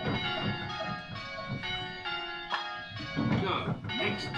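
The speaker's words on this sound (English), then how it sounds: "if we go back to the ropes and we ring the treble" A treble bell on a church bell ringing simulator sounds with bright, sustained metallic tones that overlap and decay, fairly close and clear.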